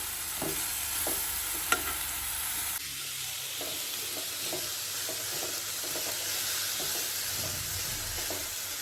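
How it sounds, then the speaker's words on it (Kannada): Naati chicken frying to golden brown for a country-chicken curry, a steady broadband sizzle with repeated stirring scrapes and clicks throughout, close and fairly loud with no talk. "ಇದು ಸ್ವಲ್ಪ ಗೋಲ್ಡನ್ ಬ್ರೌನ್ ಬರೋ ತನಕ ಫ್ರೈ ಆಗಲಿ"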